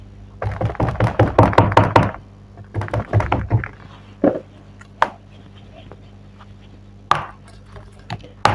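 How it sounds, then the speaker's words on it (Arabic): A basbousa tray filled with batter is banged against a marble counter in quick bursts of sharp knocks, with a pause between them, followed by a few more isolated thumps; it is close and loud, with no talk. "هدبها على الرخامة عشان تتفرد معايا"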